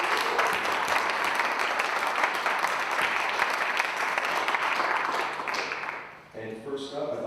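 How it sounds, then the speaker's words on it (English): Warm applause from a forum audience greeting presenters at a college event in the Bronx, a steady dense clatter of many hands that tapers off near the end as the room settles. "in giving our presenters a warm round of applause."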